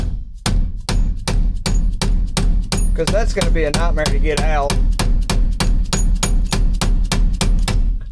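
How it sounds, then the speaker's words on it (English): Repeated hammer strikes on a part of a 1986 Ford F250 pickup, about twenty-five sharp, evenly spaced metallic blows over eight seconds, loud and close, with someone speaking briefly partway through. "Hang on, let me get a hammer."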